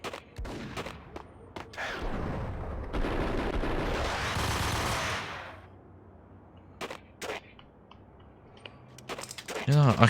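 Bursts of gunfire in the Max Payne video game on Xbox, a dense volley of shots early on followed by scattered single cracks, with a person talking between them.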